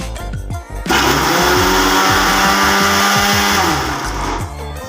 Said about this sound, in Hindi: फटाफट से मटर को मैं मिक्सी में पीस लेती हूँ